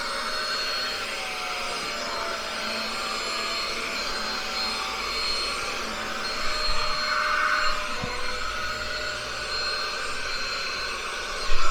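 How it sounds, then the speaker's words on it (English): A Bissell Little Green spot cleaner runs its suction continuously, a loud, steady, close whirring roar that holds throughout with a brief bump near the end. "I'm gonna see if I can suck something up."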